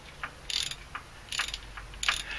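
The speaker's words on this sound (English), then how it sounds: "We'll go ahead and hook that up to the 1/2 inch drive ratchet and" A 1/2 inch drive ratchet fitted with a short wobble extension clicks in three brief bursts of rapid pawl ratcheting, close and fairly quiet, with pauses between strokes and no talking.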